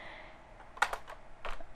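Keystrokes on a computer keyboard as an IP address is typed into a browser search bar, a few quick clicks in two short bursts, close and fairly faint, with no talking.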